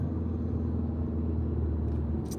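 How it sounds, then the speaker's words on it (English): Steady car engine rumble and road noise from inside a car driving through morning traffic, continuous and fairly loud throughout, with no talking. "lot of traffic out today"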